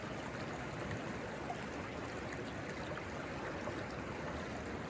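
Fast-moving river water rushing steadily in a canyon stretch, a dense, continuous broadband roar that stays close and even throughout with no voices.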